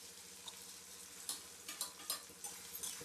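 Onion, capsicum, tomato and corn roast in a pan for cheese corn Maggi, giving a soft, steady sizzle with light scattered ticks and stirring clicks, no voices.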